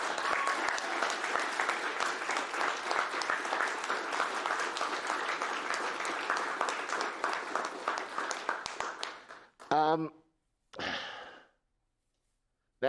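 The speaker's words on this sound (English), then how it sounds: "can we please get a round of applause for them?" Audience applause for the cleaning staff at the RPG Limit Break 2022 finale, a long dense ovation that fades out, followed by a couple of short voiced sounds.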